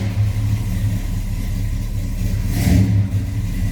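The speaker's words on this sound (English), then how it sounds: "Let's go ahead and fire this up so you can hear that 396 run." A 1971 Chevrolet C10 pickup with a 396 V8 rumbles at a steady idle, then gives one brief rev near the end, heard loud and close with no talk over it.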